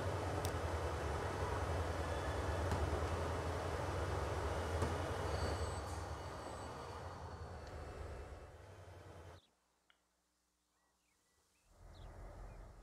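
Game trains rumble and clatter through a busy, congested rail yard in Transport Fever 2, a steady loud rolling din that fades, cuts out briefly near the end, then swells back.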